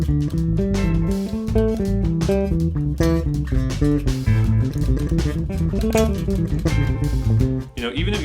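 An electric guitar plays fast sequential pentatonic licks in quick, even runs of distinct notes, up close and steady throughout with no talking over them.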